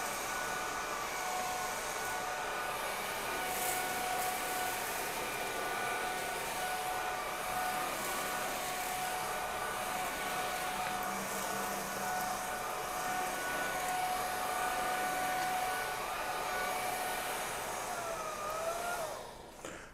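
Whall cordless vacuum running on low power over carpet, a steady whirring motor hum with a constant high whine, close and continuous for the whole stretch before cutting off at the end.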